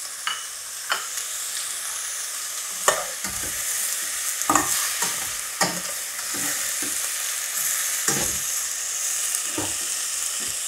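Carrots sizzle steadily in a frying pan for a chayote and carrot salad, with sharp scraping stirs cutting in every second or two over the constant hiss.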